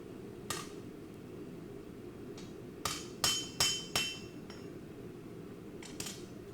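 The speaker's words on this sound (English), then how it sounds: "what is he hammering?" Bladesmith hammering a recurve, kukri-like blade at the forge: a few isolated ringing metal strikes, then a quick run of four bright hammer blows and a couple more later, close and clear over a steady low forge roar.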